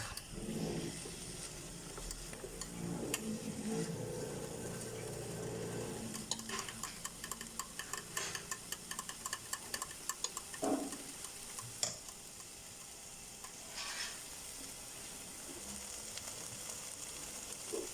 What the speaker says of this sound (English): So we're going to let that brown off before we add our garlic.